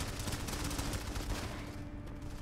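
Turret gunfire in the shooter game Modern Combat 5, a steady dense barrage of rapid shots that stays loud and close for the whole stretch without a pause.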